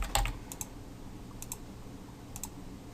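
Clicks of a computer keyboard while someone types filler text during an HTML5 and JavaScript coding session: a few quick bursts of close, crisp keystrokes over a quiet room.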